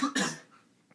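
Two quick, close coughs from a man, the second one longer and trailing off into quiet.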